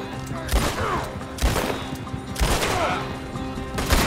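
Gunfire in the video game Red Dead Redemption 2 comes as about four loud shots spaced roughly a second apart, each with a ringing tail, over a faint game backdrop.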